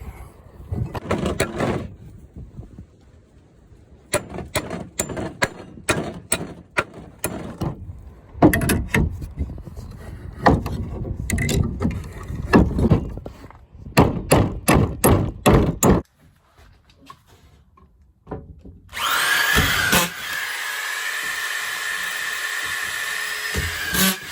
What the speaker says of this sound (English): I'm pounding nails out of boards.